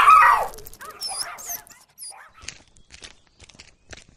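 Stray dog in an animated folk-tale cartoon, heard as a few short yelps and whimpers that mix with a burst of cartoon noise and chime-like sound effects, followed by light scattered footstep taps.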